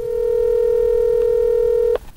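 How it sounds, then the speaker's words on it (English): A single steady telephone tone holds for about two seconds before cutting off abruptly with a short click, clear and close with no talking. "And called his phone number."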